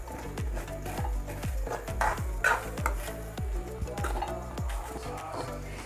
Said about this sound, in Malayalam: നമ്മൾ പരിപ്പ് നന്നായി ഇങ്ങനെ ഇളക്കി കൊടുക്കണം, അല്ലെങ്കിൽ അടി പിടിച്ച് കരിഞ്ഞു പോകും